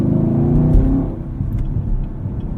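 Engine of a 2018 Chevrolet Camaro 2SS with a six-speed manual, driven at night, a loud steady rumble with a brief rise in revs early on, heard from inside the car without talk.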